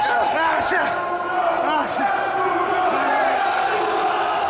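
Loud wrestling crowd at Abdullah the Butcher's Canadian retirement match roaring and yelling wildly, a dense continuous wall of cheers and whoops with individual shouts rising out of it throughout.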